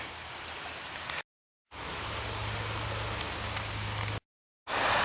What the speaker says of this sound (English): As it's raining here